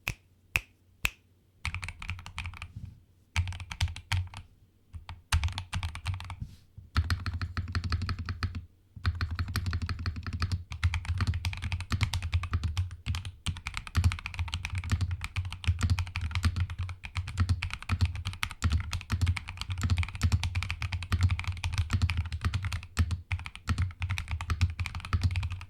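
Typing on an RK96 keyboard fitted with Akko Silver switches and Akko Retro Carbon keycaps, a steady close stream of light clacky keystrokes with a few brief pauses early on.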